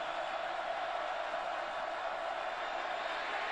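A college football stadium crowd at K-State versus Baylor roars steadily on third down, a dense, continuous wall of cheering with no breaks, heard from a distance.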